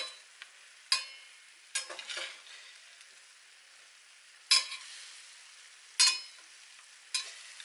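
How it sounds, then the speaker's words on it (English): Jerk prawns grilling on a hot grill give off a faint, steady sizzle, broken by several sharp clinks and scrapes as they are turned. "So these will grill here for 5 minutes or less."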